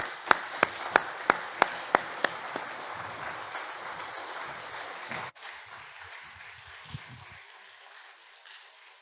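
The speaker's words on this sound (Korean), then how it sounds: "우리 나오실 때 박수로 축복하며 환영하겠습니다" Church audience clapping to welcome a speaker to the front: a few sharp, evenly spaced claps ring out close by, then a softer crowd applause carries on before tapering off into quiet room noise.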